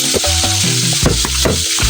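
Onion frying in a pan gives a loud, close, continuous sizzle, broken by a few quick stirring scrapes over two seconds, with no voices.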